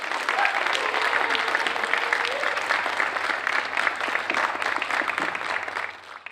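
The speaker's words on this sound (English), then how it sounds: "Open this up with a round of applause." Audience applause at a college Orange Shirt Day of Remembrance gathering, dense and sustained clapping from a sizable crowd that holds steady throughout, with faint voices mixed underneath.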